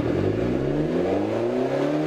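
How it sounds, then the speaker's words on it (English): A car engine, near a 1970 Super Bee, revs steadily and loudly with a rising pitch and rough, crackling texture, close by and with no speech over it. "you hear all that backfiring?"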